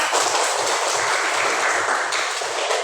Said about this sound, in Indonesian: Kita tepuk tangan dulu anak-anak.